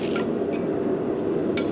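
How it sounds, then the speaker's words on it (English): Hammer striking hot metal at a blacksmithing demonstration, with a few sharp metallic clinks ringing over a steady, loud background hum of forge and workshop noise. "we'll start it with this hammer, spread it a little bit, like kind of full it with that"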